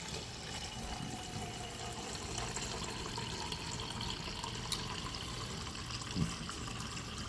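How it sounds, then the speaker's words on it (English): Tap water pours steadily into an emptied coconut milk can in a home kitchen while black beans and rice are being made, a continuous close splashing rush with no talking. "I'm gonna fill this up with some water."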